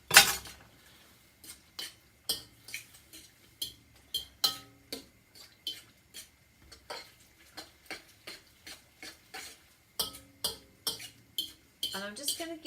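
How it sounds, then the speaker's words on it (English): Utensil stirring a pot of tom yum soup, producing a steady series of light clinks and taps against the pot, fairly close and regular, with no talk over it. "Right, so give this a bit of a stir."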